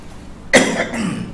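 A man coughs once, a sharp sudden hack followed by a rough trailing exhale, close to the microphone and loud against quiet room tone.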